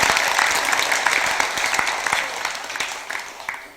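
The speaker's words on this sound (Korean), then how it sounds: "박수 한번 주세요" A congregation at a Sunday Dharma service at Bongeunsa temple claps together. The applause is broad and fairly loud at the start, then tapers gradually over a few seconds with scattered individual claps.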